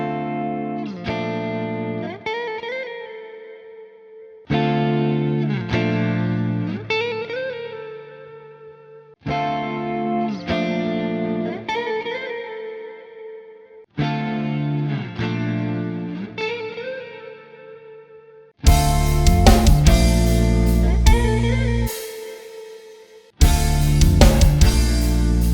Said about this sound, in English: I'm using the same clean preset for Neural DSP Archetype Petrucci X